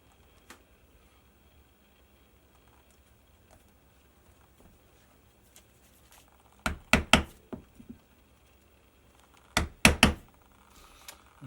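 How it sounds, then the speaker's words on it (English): A 2-prong stitching chisel punching stitch holes in leather for a watch strap, heard as two quick clusters of sharp mallet thunks, about three strikes each, loud and close after a quiet stretch. "And in the middle, I'm just going to use a 2-prong. I'm going to mark out my stitches."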